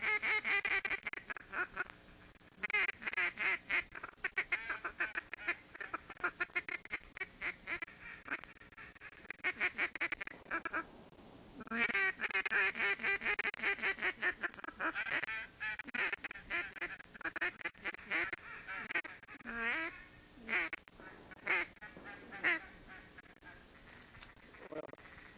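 Wild ducks on a hunting pond keep up a dense run of quacking and honking calls, many birds overlapping in steady bursts with a short lull near the middle, fairly loud and fairly close.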